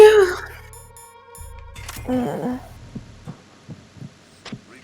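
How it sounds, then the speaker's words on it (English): A steady, regular heartbeat from the video game Metal Gear Solid 2 throbs low and muffled, its soft thumps repeating under game music, beeps and a voice talking over it. "That just sounds like a regular heartbeat."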